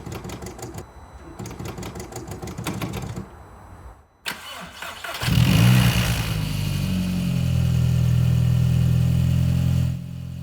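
A VW Golf Mk4 GTI with a rich-running fault cranks with a rapid rattling churn, pauses, then catches and fires into a loud, steady idle that settles and hums on alone.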